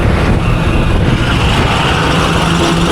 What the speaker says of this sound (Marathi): हे शुभम दादा युनिकॉर्न बोलते, रनिंगचा बादशाह